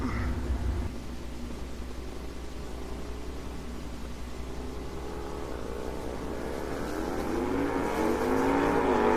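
A pair of Harley motorcycles drag race down a raceway strip, starting with a low rumbling drone that builds into rising, rapidly climbing engine whine as they accelerate, growing louder toward the end.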